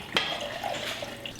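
About one and a half cups of water poured into a container in a home kitchen, a brief, soft splashing trickle heard close by with no talk.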